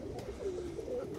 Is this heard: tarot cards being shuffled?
no